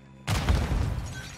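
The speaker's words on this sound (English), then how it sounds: "Throwing grenade." A grenade explosion in Call of Duty: after a brief quiet moment a sudden booming blast erupts and then rumbles and decays for about a second, heard alone.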